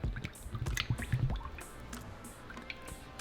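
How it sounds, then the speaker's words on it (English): Cooking oil is poured into a pan on a stove set to medium heat. It makes a short, close, soft glugging pour with a few drips and squishy splashes. "now we're just going to add our oil"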